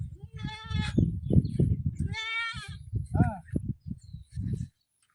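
Goat bleating: two or three loud, wavering bleats come in short bursts, mixed in and overlapping with people talking nearby.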